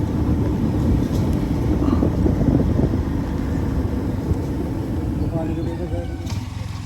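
A motorcycle rides toward the entry point of Mount Hibok-Hibok in Camiguin, its engine a steady low rumble close by, with wind noise over it throughout.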